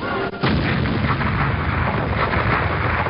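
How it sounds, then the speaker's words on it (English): A construction blast in 1949 at the start of the Snowy Mountains scheme near Adaminaby, heard as a heavy rumbling roar that fills the whole stretch after a brief dip, loud and broad like an old newsreel recording. "the first blast of the Snowy Mountains scheme shook the town of Adaminaby"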